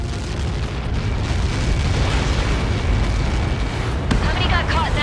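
An explosion in Ace Combat 7: Skies Unknown gives a long, loud rumbling roar that fills the whole stretch, with a sharp crack near the end and radio-style voices over it.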